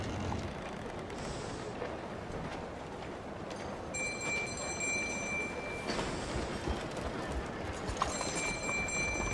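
Horse hooves clip-clop in Red Dead Redemption 2, a steady rhythmic beat under rumbling ambience, with brief high tonal game chimes at points.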